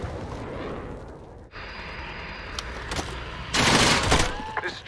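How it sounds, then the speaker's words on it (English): Gunfire in the Call of Duty Modern Warfare video game, a steady wash of distant firing building into a louder, denser burst of shots near the end, with no talk. "This is Tracker, we're taking some fire"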